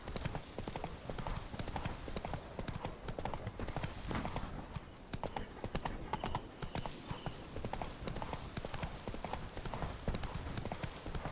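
The horse Roach trots in The Witcher 3, a steady clip-clop of hoofbeats that runs unbroken through the whole stretch at moderate level, with no talk over it.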